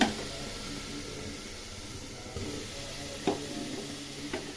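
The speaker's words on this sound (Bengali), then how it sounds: "এর মধ্যে আলু এবং গাজরগুলো দিয়ে দিচ্ছি।" Potatoes and carrots dropped into a hot frying pan with prawns, giving a steady close sizzle with a few sharp clacks of utensils against the pan.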